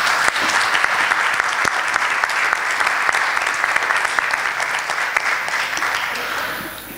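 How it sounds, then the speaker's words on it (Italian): Sustained, dense applause from a conference audience greeting a speaker at an equal-opportunity event, steady and loud for several seconds before tapering slightly at the end. "vi prego di salutarla con un applauso"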